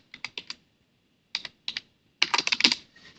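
Bursts of quick keystrokes on a computer keyboard, close and crisp, with short pauses between clusters and a denser flurry of clacking near the end.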